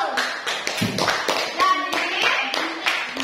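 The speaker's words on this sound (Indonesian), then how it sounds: "Tepuk tangan dulu." A classroom group claps together in a quick burst of applause, many overlapping hand claps close by, with a voice briefly audible over the clapping.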